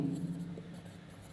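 A teacher writes out a journal entry by hand, producing a short, soft scratch of strokes that lasts about a second before trailing off into quiet.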